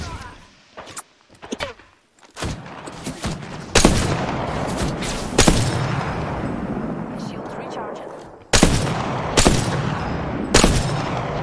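Gunfire in the battle royale game Apex Legends: loud, sharp shots and bursts ring out in irregular clusters, some in rapid fire, separated by brief lulls and accompanied by a voice.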